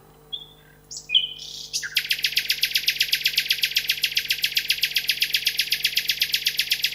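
A nightingale sings close and loud, opening with a few separate chirps and then settling into a long, fast, evenly pulsed trill over faint low hum.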